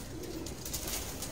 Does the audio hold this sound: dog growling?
no